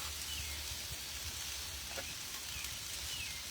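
Yellow squash and onion sizzle on a Blackstone griddle, a steady faint frying hiss with no talk over it.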